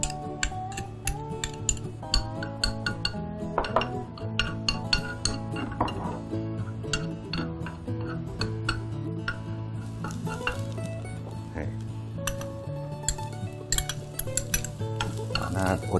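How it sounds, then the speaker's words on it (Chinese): Garlic is stir-fried in a little oil in a wok, with a soft steady sizzle under frequent metallic clinks and scrapes of the spatula, close and busy throughout while faint music plays in the background. "好，那我们蒜头先给它爆香。"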